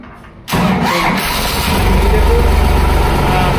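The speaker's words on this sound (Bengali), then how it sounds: "দেখান তো, ইঞ্জিনের আওয়াজটা শুনি।" A second-hand tractor at a showroom in Cooch Behar, its engine in good condition with 4095 hours run, cranks briefly and catches, then settles into a loud, steady diesel idle with a rapid thumping pulse, close by.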